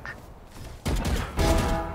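Two bursts of pistol fire in the video game Valorant, loud and close, each a dense crackling volley. Faint game ambience runs between the shots.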